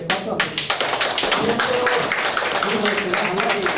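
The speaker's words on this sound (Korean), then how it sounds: "수고 많은 분들에게 박수 한번" Audience applause at a forum, a dense burst of hand clapping from a hall crowd, loud and close, rolling steadily for several seconds with a voice speaking over it.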